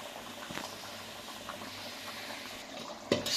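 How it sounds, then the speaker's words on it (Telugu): Nellore-style fish curry liquid simmers in a pot, giving a soft, steady bubbling hiss that runs throughout, with a sharp clink near the end. "సో ఇది బాగా ఉడికేదాకా ఉంచుకోవాలన్నమాట"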